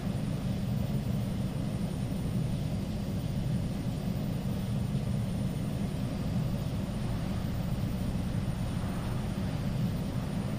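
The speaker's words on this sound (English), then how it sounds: "The grinding noise is the vent fan." Steady low grinding drone of the vent fan in an Aerosoft Twin Otter flight simulator, a continuous dense rumble with a faint high whine that holds unchanged throughout, with no talking.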